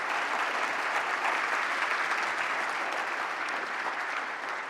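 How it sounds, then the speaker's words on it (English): Sustained audience applause for a program committee at a Kafka Summit London 2019 keynote, a dense, steady wash of many hands clapping at even loudness throughout. "So huge round of applause for our program committee."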